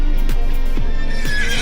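A giant horse on a small Toronto farm whinnies in a loud, wavering neigh with several rising and falling pulses, close by over a steady background hum.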